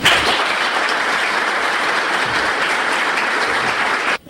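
Loud, sustained applause welcomes engineer Rafael Corominas Pepín at an evening talk, a dense steady clatter of many hands lasting about four seconds before cutting off abruptly.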